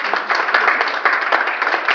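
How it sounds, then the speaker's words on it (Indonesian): Dense, steady clapping from a group at an Indonesian public-service training session, running the full two seconds at an even level with no voices over it. "Tepuk tangan semuanya."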